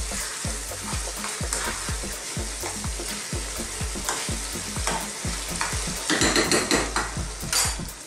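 Chicken balti is stirred in a sizzling pan over high heat: loud continuous frying with rapid rhythmic scrapes and clacks of a utensil against the metal, growing busier toward the end, no voices.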